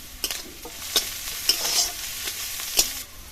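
Onion, garlic, ginger and chilli fry in oil, a soft close sizzle punctuated by several sharp clinks and scrapes of a stirring spoon.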